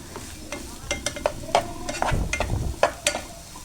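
Semolina (rava) roasting in ghee in a pan over low flame, stirred with repeated scraping strokes and faint crackling sizzle, close and moderately quiet with no voices.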